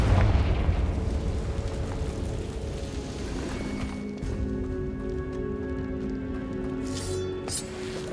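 A Confringo spell in Hogwarts Legacy blasts with a loud, rumbling explosion at the start, then fades into a softer sustained crackle and tonal ringing with a few sharper hits, no talking.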